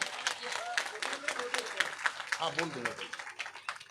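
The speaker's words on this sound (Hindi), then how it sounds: "हमारे सम्मानित पिता तुल्य बुजुर्ग मंच पे एक बार जोरदार तालियां हो जाएं" A crowd at an outdoor village political rally applauds with scattered, uneven clapping, while voices carry on underneath the claps.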